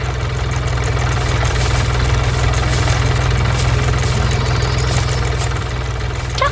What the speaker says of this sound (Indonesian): Traktor merah bersama mesin pengumpul jerami sedang bekerja keras.